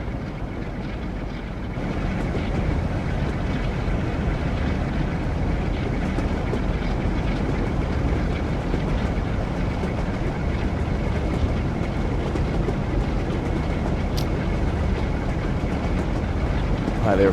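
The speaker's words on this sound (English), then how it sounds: "You can hear that engine hammering away." A historic steam train engine in a train simulator game hammers away under open throttle, a steady loud rumbling drone that rises after a quieter start and continues unbroken.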